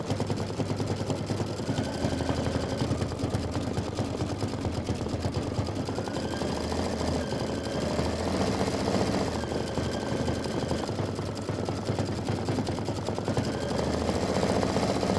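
A sewing machine stitching a quilt block in grunge star fabric runs as a steady, continuous mechanical whir for the whole stretch, fairly close and unbroken, with no talking over it.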